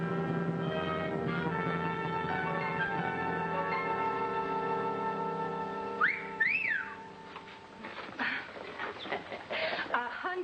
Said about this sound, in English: 190 years old and you're still whistling at girls.